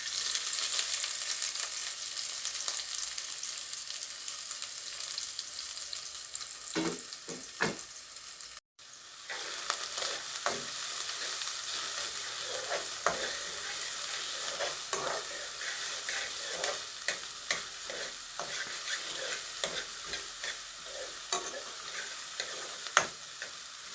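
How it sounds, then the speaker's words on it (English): Onions frying in garlic-infused coconut oil while cooking saltfish, a continuous soft sizzle with frequent clicks and scrapes of stirring, quiet and close throughout, briefly cutting out near nine seconds, no voices. "I'm adding my bit of garlic infused coconut oil. I like to start with the onions, so that's what I'm adding first."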